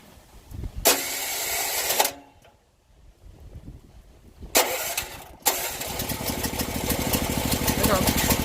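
A food truck's engine cranks with a single push-button start, catches and runs loud, then settles into a steady rumbling idle after a brief pause and a second surge.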